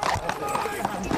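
Hooves of cavalry horses fidgeting while lined up on parade, a few uneven clops scattered under a voice, fairly close and moderately loud.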